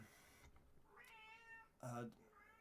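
A cat meows twice nearby, a drawn-out rising cry followed by a shorter, louder one, in an otherwise quiet room.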